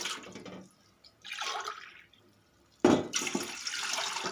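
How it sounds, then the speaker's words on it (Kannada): Water splashes into a pot in two short glassfuls separated by a brief pause, close and fairly loud, with no talking, while making jowar rotti dough. "ಈ ಗ್ಲಾಸ್ಲಿ ಒಂದು ಎರಡು ಗ್ಲಾಸ್ ನೀರು ಹಾಕ್ಕೊಂಡು"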